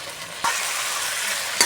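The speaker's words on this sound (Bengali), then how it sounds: "ভালো করে কষিয়ে নেব।" Pangas fish curry with tender snake gourd sautéing in hot oil gives a steady close sizzle, broken by two brief scraping stirs of the pan, with no talking.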